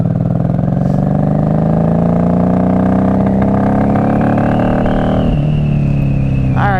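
A 1994 Honda Magna VF750C V4 motorcycle idles close by with its choke off on a cold day, a steady throbbing engine note that climbs slightly in pitch, then dips sharply near the end before settling again.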